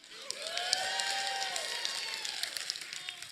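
An audience claps and cheers for hot chocolate at a Christmas storytelling show, a short, fairly faint burst of applause with some whoops that swells and then fades.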